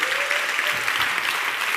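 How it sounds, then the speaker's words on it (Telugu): Church congregation clapping hands loudly, a dense, steady wash of applause filling the room for the whole moment with no pause. "గట్టిగా చప్పట్లు కొడుతూ స్తోత్రాలు చెప్దాం"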